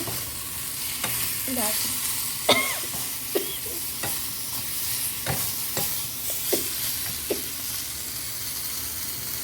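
A vegetable poriyal is stirred and fried in a pan, giving a continuous close sizzle punctuated by regular scraping strokes and clicks of a spatula, with a brief spoken voice over it.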